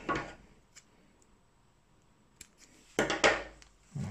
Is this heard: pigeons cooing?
no